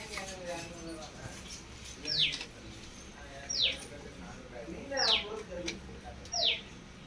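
A crow calls in short, sharp caws repeated four times at a moderate distance while being fed idly, with faint background noise and a quiet voice between calls.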